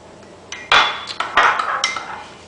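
Spoon clinking against a bowl while sherry is mixed into dark thick soy sauce, several bright clattering strikes over about two seconds, close and fairly loud, no talking.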